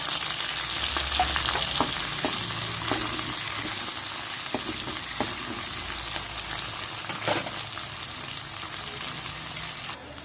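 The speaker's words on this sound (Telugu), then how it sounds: "ఇప్పుడు మనకి ఉల్లిపాయ ఈ విధంగా వేగింది" Onions sizzle steadily in a pan for an eggplant fry, a constant frying hiss with scattered crackles and a few sharper spatula stirs, close and fairly loud with no talking.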